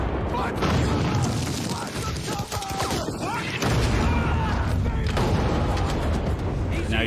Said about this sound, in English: Now you see these guys are getting hit by mortars, machine guns.